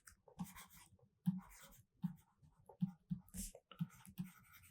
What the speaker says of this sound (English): Let me write down again.